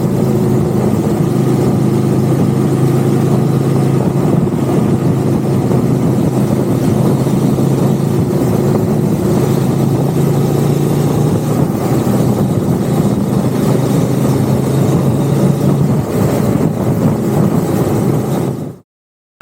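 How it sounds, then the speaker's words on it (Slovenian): A Honda Transalp 750 motorcycle engine idles loud and close with a steady low rumble for about nineteen seconds, then cuts off abruptly. "Evo ga, Honda Transalp 750."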